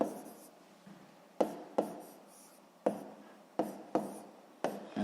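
Pen or pencil writing on paper during a Ukrainian sixth-grade geometry exercise: soft scratchy strokes come in short bursts with a few sharper taps, close and fairly quiet, with no talk.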